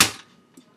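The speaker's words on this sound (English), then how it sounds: "that's my brother shooting his gun" A toy gun fires once with a sharp, close crack that quickly decays, followed by faint rustling and a small click at the end.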